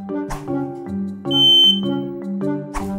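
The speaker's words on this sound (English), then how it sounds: "make sure you test your smoke alarm once a week" A smoke alarm being tested lets out a single shrill, high-pitched beep lasting under half a second over gentle background music.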